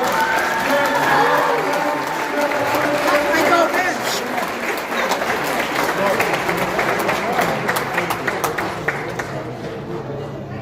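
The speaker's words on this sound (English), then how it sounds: "give those kids a round of applause" An audience claps steadily for children who have just performed at a Kosovo Independence Day celebration in New York City, with cheering and crowd chatter mixed in and a voice speaking briefly over the applause.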